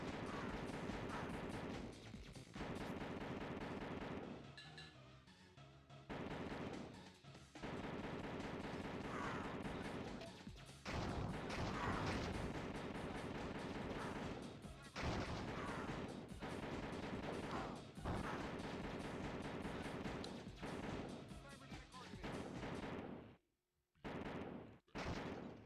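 Gunfire in The Terminator Sega CD game, repeated dense bursts of shots over loud game music, nearly continuous with a brief drop to near silence toward the end.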